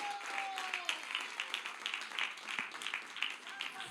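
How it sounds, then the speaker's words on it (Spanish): A church congregation claps in praise, with quick, somewhat uneven bursts of handclaps heard at a moderate distance and fairly quiet throughout, and no voices over them. "¿Cuánto le dan palmas de alabanza al Señor en esta hora?"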